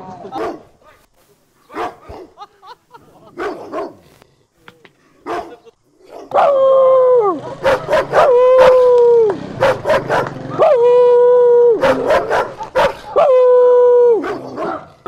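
Dogs bark close by in short, sharp bursts, then break into loud, drawn-out howls that rise and fall several times, with a few faint voices underneath.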